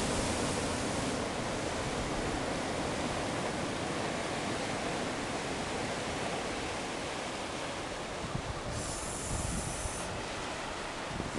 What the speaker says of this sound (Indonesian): Lihat ombak.